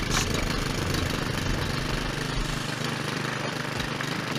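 A lawn mower's small engine runs steadily with a rough, chugging drone, constant in level throughout.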